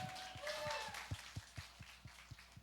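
Faint applause rises in a church after worship, a brief scatter of claps close by with a quiet tone lingering underneath.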